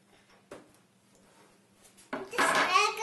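A homemade chocolate cake being pried away from its pan, heard as faint scraping followed by a loud, close clatter of metal pan and utensil, with no talking.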